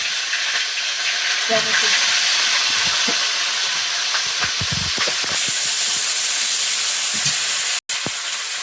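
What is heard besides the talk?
spices, ginger and green chilli sizzling in hot oil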